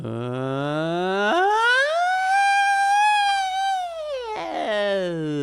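A singer's voice imitates a siren as a vocal exercise, gliding up from low to high pitch, holding, sliding back down, then rising again, loud and close with no other sound.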